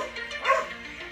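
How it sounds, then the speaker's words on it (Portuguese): A dog barks in the background, one short yelp near the middle, faint and distant behind a quiet room tone. "Desculpa o cachorro aí de fundo"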